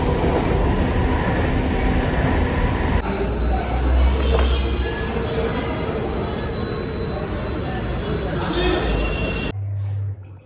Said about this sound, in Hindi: मेट्रो आ जाएगी थोड़ी बहुत देर में